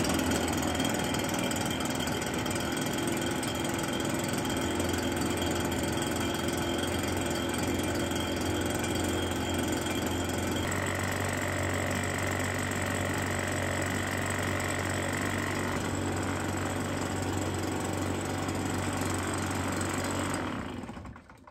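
A small two-stroke engine on Stihl Ultra synthetic oil runs steadily at close range, a continuous buzzing drone with a brief pitch shift midway, then cuts off abruptly near the end.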